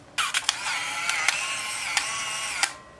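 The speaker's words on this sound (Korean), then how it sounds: "필름을 넣었는데 여기서 셔터를 한번 눌러줄게요" A Nikon L35AD film camera fires its shutter after film is loaded, then the motor whirs for a few seconds as it advances the film, with sharp mechanical clicks at intervals, loud and close.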